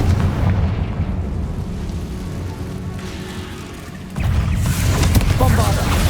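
Explosion of the Confringo spell in Hogwarts Legacy: a sustained, heavy roaring blast with crackling debris, which surges louder midway into a second fiery burst, with speech partly over it.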